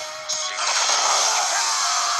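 A final smash attack lands in a fighting video game, a sharp crashing burst that swells into a loud, sustained bright roar lasting a couple of seconds, with no talking.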